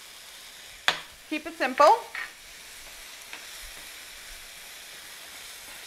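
Minced jarred garlic with ginger hits a hot pan in a few short, sharp sizzling bursts, then fades to a faint hiss; a voice speaks briefly over it.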